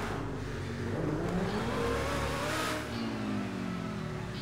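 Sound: T20 car engine revving in video game GTA Online

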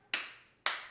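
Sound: two claps by children on a count

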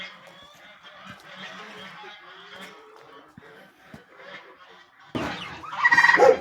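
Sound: geese honking

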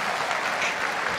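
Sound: applause

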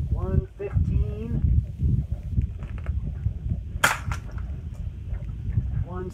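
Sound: suppressed .22 gunshot, Thunder Beast suppressor sound test

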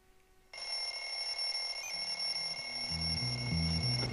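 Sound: alarm clock ringing in the video game Bully

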